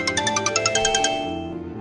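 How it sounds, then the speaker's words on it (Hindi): A telephone rings in a Hindi audio story, a quick run of bright, chiming pulses for about a second that then fades into a lingering tonal decay. "अचानक फोन की घंटी बज उठी।"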